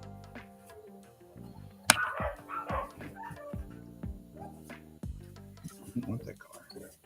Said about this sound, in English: Dogs are freaking out about.